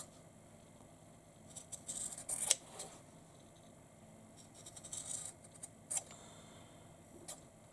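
Scissors snip quietly at the corners of a sewn fabric wallet, with a few short, sharp cuts in two small clusters against a faint, quiet room.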